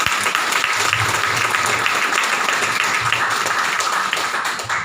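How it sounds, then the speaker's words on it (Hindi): Loud, steady applause from an audience at a Modicare meeting, dense clapping sustained throughout and fading slightly at the very end. "एक जोरदार ताली"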